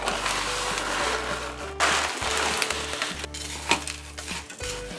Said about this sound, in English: we're going to add 24 ounces of cauliflower rice, and this is the one I'm using from HEB. It's frozen